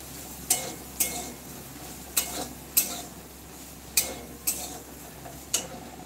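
Potatoes fry in a wok over a soft, steady sizzle, with about nine sharp taps and pops spread unevenly through the clip, as if the pieces jump against the metal or a spatula strikes it.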